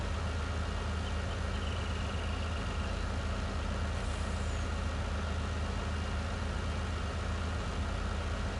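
A heavily loaded truck in a PS4 driving game holds a steady, low, droning engine rumble that strains without letup, with no talk over it.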